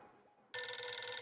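A telephone bell rings suddenly after quiet room tone, a bright, continuous trilling ring heard nearby and fairly loud.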